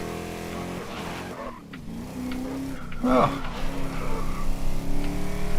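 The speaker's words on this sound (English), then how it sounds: "it was a bit pointless just having you listen to the engine noises" A race car engine drones under a talking voice in a racing video game, its pitch rising and shifting with a brief tire squeal partway through.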